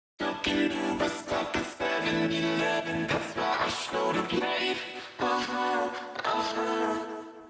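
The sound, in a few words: lead vocal through Harmony Engine plugin generating chords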